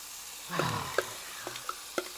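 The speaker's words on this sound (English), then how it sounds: "The sounds of sizzle." Onion hits a hot frying pan with a brief burst of sizzling, followed by a few light clinks of a utensil against the pan.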